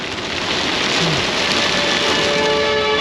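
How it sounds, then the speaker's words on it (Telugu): Heavy, relentless rain pours down on a highway during flooding in China, a dense, steady roar of drops with no pause and no voices. "ఇది ఇలా కొడతానే ఉంది వాన అస్సలు తగ్గట్లేదు"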